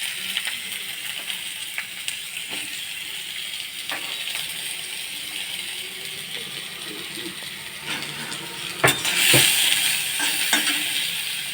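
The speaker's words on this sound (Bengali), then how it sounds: "পেঁয়াজটা ভাজা ভাজা হয়ে গেছে" Chopped onions frying in a hot wok for chow mein, a steady close sizzle with intermittent scraping and clicking stirs of a utensil, swelling louder near the end.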